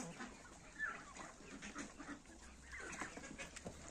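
A hen in a farmyard clucking softly in short repeated bursts, faint and somewhat distant over low background noise, with no talking.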